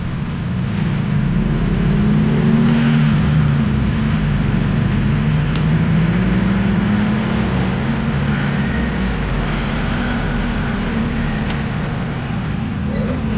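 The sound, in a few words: road traffic, cars passing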